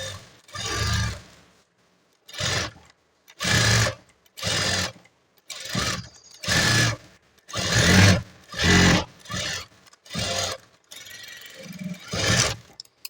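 Sewing machine running in repeated bursts of stitching as double stitches are sewn on a blouse, each run a loud, steady mechanical whir separated by short pauses, with no talk.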